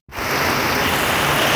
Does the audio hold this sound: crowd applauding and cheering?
no